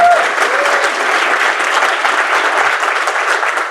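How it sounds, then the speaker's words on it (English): Audience applause for the organising team at a business finance event, a dense, steady clapping that runs unbroken at full strength throughout, with a brief tone at the very start. "Can I get a round of applause for them?"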